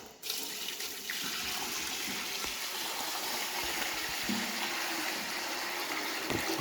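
Hot water pours steadily and continuously into a 22-litre Vevor ultrasonic cleaner tank, a close, hissing gush without pause or voices.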